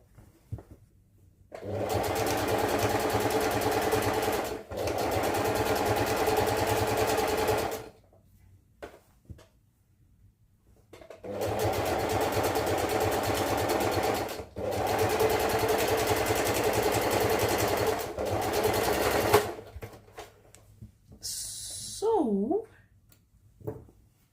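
Sewing machine stitching in two long motorised runs of several seconds each, a steady close whirring hum with brief pauses between bursts and a few faint clicks near the end.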